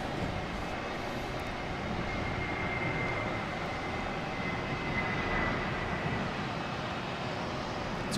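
At Boston Logan Airport, a passing airplane produces a steady broad jet roar, loud and sustained with a faint whine on top, without any voices.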